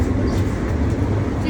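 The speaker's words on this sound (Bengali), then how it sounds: "ট্রেনটা চলছে খুব স্পিডে, দাঁড়িয়ে থাকতে পারছি না।" A passenger train running fast near Barasat station, heard from inside a carriage as a steady, loud low rumble and rattle with broadband track noise throughout, no distinct clatter beats.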